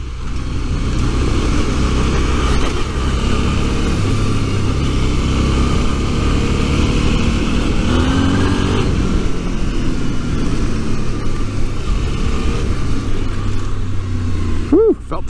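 A Suzuki V-Strom 650 adventure motorcycle ridden off-road, its engine droning loud and steady throughout with slight shifts in pitch, wind buffeting over it and a rider's voice briefly audible.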